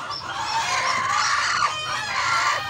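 Malaysian Serama chickens, including a broody hen sitting on eggs, cluck and chatter up close in a coop in a continuous overlapping stream of soft, tonal calls.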